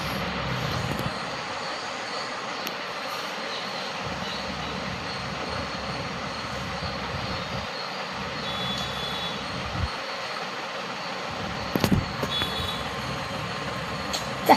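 A video game race car engine drones steadily at high speed, a continuous mechanical roar with occasional sharp clicks and brief knocks, quite loud and without talk.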